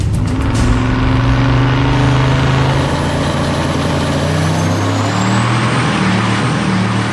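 Engine at the track roars loud and close, held near full throttle with a rising, steady pitch for about seven seconds, no voices over it.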